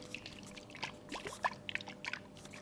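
Soft liquid sloshing and gurgling in short bursts as water is shaken inside a coconut, close and quiet with faint handling noise.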